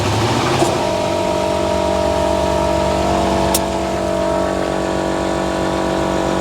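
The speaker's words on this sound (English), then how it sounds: "It's now looking like the engine's not running properly again after all that excitement." The engine of an abandoned C4 Corvette ZR-1 runs roughly with a steady, loud rumble and uneven droning tones. A couple of brief clicks sit on top of it, and no one speaks.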